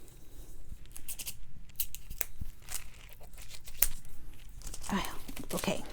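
A foil sheet for a Crafters Companion foil press being handled, crinkling and tearing in close bursts and rustles, with a person talking intermittently.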